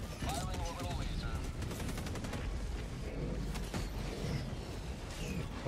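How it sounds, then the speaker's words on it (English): An orbital laser fires in the Helldivers 2 video game, a dense continuous roar of blasts and crackling impacts layered with rapid gunfire, all loud and sustained throughout. "Orbital inbound. Firing orbital laser."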